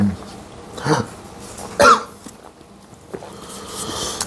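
Two short, sharp coughs about a second apart, close and fairly loud, with quiet chatter and room noise around them.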